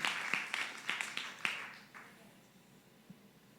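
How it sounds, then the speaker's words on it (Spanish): A church congregation gives a few scattered, fairly faint hand claps during a discipleship class. The claps come in an uneven burst and quickly thin out into quiet room tone. "Dale un aplauso, Señor, se lo va a dar con la gana de verdad."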